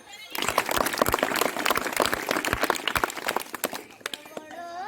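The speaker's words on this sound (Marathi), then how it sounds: "टाळ्या वाजवा" An audience at a school reading event bursts into quick, uneven clapping for a few seconds, close and fairly loud, with voices mixed in before it fades and a person speaks.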